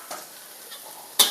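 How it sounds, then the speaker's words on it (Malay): Garlic frying in hot oil in a very hot wok, a soft hiss broken by light utensil taps, then a sudden louder burst of sizzling and stirring near the end, with no speech. "Okey, masukkan bawang putih."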